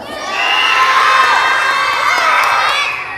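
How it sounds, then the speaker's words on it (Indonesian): Schoolchildren shouting and cheering together in a school hall during an Isra Miraj assembly, a loud, sustained crowd roar that swells and then fades slightly. "Tidak perlu teriak."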